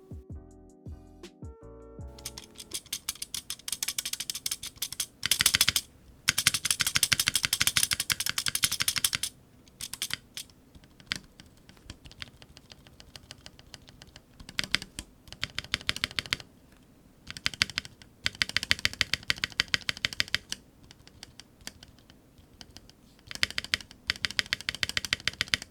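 Typing on a KBD67 Lite R2 keyboard fitted with Durock POM linear switches and unmodified stabilizers, with dense, close-up clacking in bursts and short pauses, occasional heavier stabilized-key thocks, no talking.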